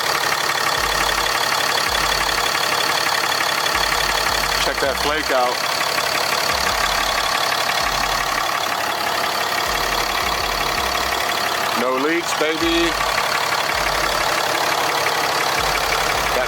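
Truck diesel engine idling with a turbo, a steady close rumble under a person talking throughout, with a few brief louder bursts.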